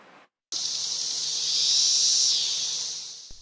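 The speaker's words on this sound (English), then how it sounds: "This summer, over 1 trillion periodal cicadas are expected to emerge across the eastern United States" A dense chorus of periodical cicadas in the eastern United States, a continuous loud, high-pitched drone that swells slightly and then holds steady after a brief silent gap.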